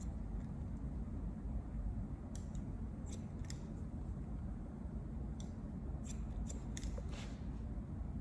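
Scissors snip at a man's hair during a haircut, with light, crisp clicks in small clusters spread across the clip over a constant low background rumble.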